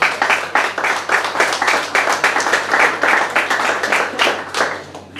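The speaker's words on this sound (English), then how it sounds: "So we give it a big round of applause to the lads as well." An audience claps for the lads at a Chaser launch event in Reidys of Newtown, a close, lively burst of many hands with distinct individual claps pulsing steadily throughout.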